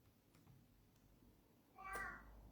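A house cat in a quiet room lets out one faint, short meow near the end, over a soft room hum.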